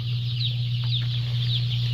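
Broiler chickens clucking inside an enclosed poultry house, soft scattered calls over a loud steady hum of ventilation fans.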